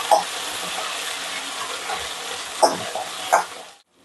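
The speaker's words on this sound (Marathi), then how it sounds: "ह्याचा कच्चा स्मेल जाऊपर्यंत हे भाजून घ्यायचं" Ground masala paste frying and sizzling in a hot pan while being stirred, a steady crackle broken by a few sharp scraping bursts before stopping abruptly.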